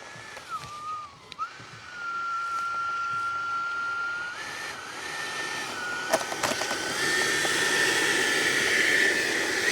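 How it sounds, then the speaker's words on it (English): A Motion RC Freewing F-16 V2 model jet with a 90 mm electric ducted fan on 6S power taxis outdoors on a sunny, windy day, its steady whine rising and falling in pitch close by, with no talk. "So he's going to taxi out, and he's going to sit there the whole time"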